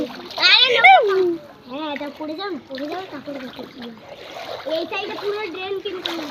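Splashing through flood water in a flooded neighbourhood, with repeated wet splashes and trickling mixed under a child's excited chatter throughout.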